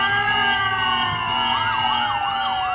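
Several emergency vehicle sirens wail continuously, one rising and falling in a fast yelp pattern over a steady tone, loud and close, with no talking.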